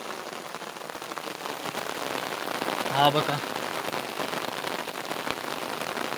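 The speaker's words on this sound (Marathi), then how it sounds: "मस्त पाऊस लागतोय" Steady rain falls over a misty Konkan village hillside above paddy fields, a continuous soft patter filling the whole stretch, with a voice talking briefly over it.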